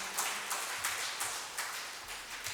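Audience clapping in a rhythmic, fast unison beat, a few sharp claps spaced evenly, moderately loud and fairly close, with little else around them.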